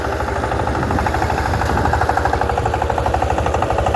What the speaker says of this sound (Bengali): চলছে দশ কর্পোরেশন ইঞ্জিনিয়ার পাওয়ার টিলার দিয়ে চাষ